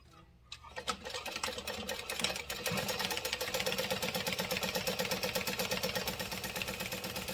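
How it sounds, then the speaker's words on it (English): A sewing machine runs steadily, stitching beside an existing seam line on a garment, its fast rhythmic mechanical whir starting after a brief pause and continuing loud and close with no talk. "we need to sew right next to that stitch line we just made"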